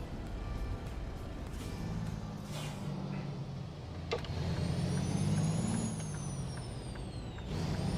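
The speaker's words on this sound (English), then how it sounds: "That turbo's a little noisy." A truck's turbo whistles in American Truck Simulator, a thin rising whine over a steady engine drone and air-brake hiss, fairly loud and close with no talking.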